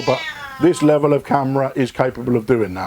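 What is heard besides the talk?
Siamese cat meowing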